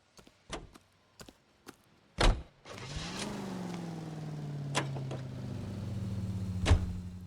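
A 1940s-style car in L.A. Noire starts after several door and body clunks, then its engine rises to a steady hum while driving away, with a faint thump near the end.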